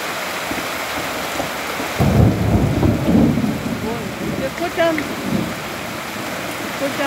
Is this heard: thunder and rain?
yes